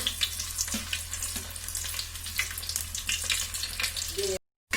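Crushed skin-on garlic frying in hot oil in a pan, a continuous crackling sizzle with scattered pops, ending in a brief cut to silence just before the close.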